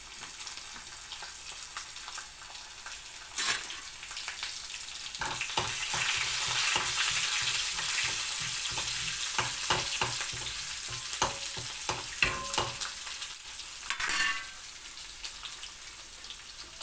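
Cumin, mustard seeds and garlic cloves fry in hot oil for an Andhra-style dal rasam, giving a steady close sizzle with crackling pops and popping seeds scattered throughout, and no voices.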